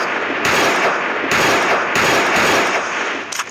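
AK rifle fire in the Free Fire battle game, a dense, loud run of rapid shots in several bursts with brief gaps between them, close and dry, with no voices over it.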